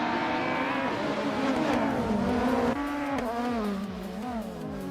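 A 2007 SEAT Leon TDI race car in a racing video game revs hard, its engine pitch climbing then dropping through gear changes and wavering, steady and prominent with no voices.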